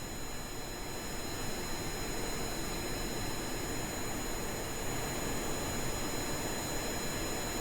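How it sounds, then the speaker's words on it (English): Plane engines in Kerbal Space Program give a steady, even jet roar with a thin high whine running through it, constant and unbroken, with no voices. "The sound of the engines."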